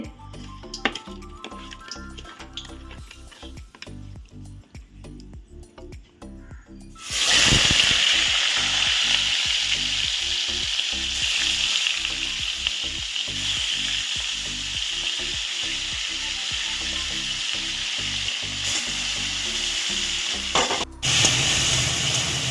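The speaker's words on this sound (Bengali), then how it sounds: "নুন, একটু হলুদ দিয়ে মাছটা ভেজে নেব" Fish seasoned with salt and turmeric drops into hot oil, setting off a loud, steady sizzle. Before that come quieter kitchen sounds, and the crackling frying then continues without a break.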